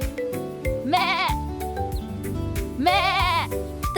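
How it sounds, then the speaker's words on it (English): A goat bleats twice in a cartoon-style animal sound over a cheerful children's music backing, each bleat a wavering tone lasting about half a second. "The goat says... Meh!"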